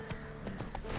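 Hooves of Roach, the horse in The Witcher 3, clip-clop in a quick steady rhythm at close range, with a snort or whinny mixed into the hoofbeats over a constant background hum.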